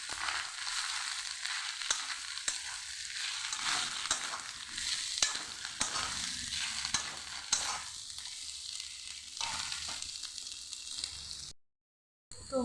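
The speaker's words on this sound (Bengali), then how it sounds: "ভালোভাবে আমি এটাকে মিশিয়ে নেব।" Samosa filling is stirred and mixed in a pan, giving a continuous close sizzle and dense scraping and crushing strokes that run throughout, then cut out briefly near the end.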